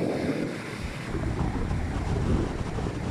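Wind and sea waves at Isipingo Beach in Durban make a continuous rough roar of surf, with gusts buffeting the microphone throughout.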